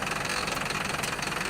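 Lamborghini engine running in a game, a steady mid-pitched mechanical drone with a slight rough pulsing, continuous and fairly loud with no talk.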